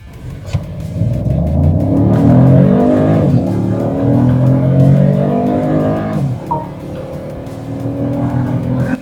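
A BMW 218 Gran Coupe accelerates hard in boost mode, its engine note rising loudly and steadily through the gears with brief dips at shifts, heard from inside the cabin with no talking.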